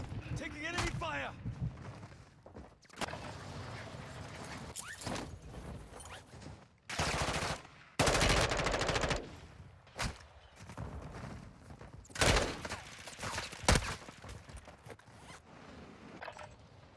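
Enemy gunfire crackles in Call of Duty: Modern Warfare II, with several loud bursts and shots breaking through a busy battlefield mix.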